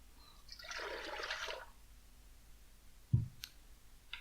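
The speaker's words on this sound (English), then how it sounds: "We just put the water in the pressure cooker." Water poured into a pressure cooker, a short trickling splash lasting about a second, then a quiet pause and a sharp metallic clunk with a few light clicks.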